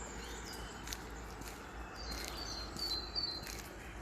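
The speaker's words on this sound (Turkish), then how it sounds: "Kuşların sesini dinliyor musunuz?" Faint bird chirps rise from the distance, a few short high calls over a low, steady background hum.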